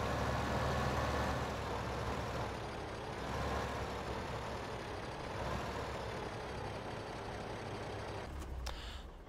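A tractor engine in Farming Simulator 15 idles with a steady low rumble and even, unbroken drone, faint and continuous, ending in a short click.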